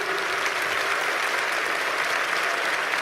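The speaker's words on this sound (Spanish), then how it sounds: "Aplaudan, hombres, las mujeres no necesitan aplaudir." Men in a lecture audience applauding, a thick, steady roar of many hands clapping together, loud and unbroken from start to finish, with no clear voices over it.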